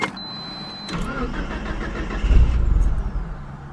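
A Mitsubishi Galant VR4 engine cranks and fires up, the starter whirring before the engine catches with a loud low rumble and settles toward idle; the car had trouble starting before.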